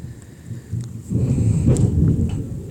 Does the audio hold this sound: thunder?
yes